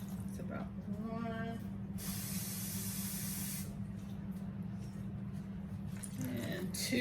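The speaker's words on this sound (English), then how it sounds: "Just gonna spray the water over here." A spray bottle mists water in one sustained hissing burst of about two seconds while steak is cooked with onions and gravy in a home kitchen, with a steady low hum and a voice heard briefly before it.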